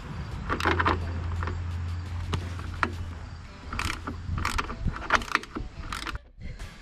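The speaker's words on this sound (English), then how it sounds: "we're just going to take our 13mm socket and take off this rear wheel" A 13mm socket wrench removes the rear wheel bolt on a Toro Recycler lawn mower with repeated close ratchet clicks in uneven bursts, over a faint low hum.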